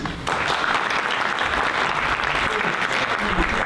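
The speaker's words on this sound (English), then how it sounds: "Round of applause, please." An audience claps at a panel event, a steady, dense round of applause that holds at an even level for a few seconds, with no talking.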